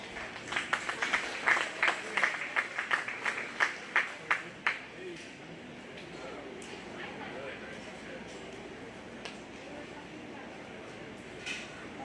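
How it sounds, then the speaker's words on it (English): Scattered crowd clapping at a county fair 4-H and FFA swine show, a handful of distinct rhythmic claps for several seconds that thin out into a faint murmur of people talking. "Let's give those young exhibitors a round of applause."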